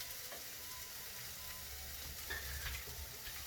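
Vegan mince sizzling and frying in a pan, a steady close hiss with faint scraping and stirring clatter throughout, no voices.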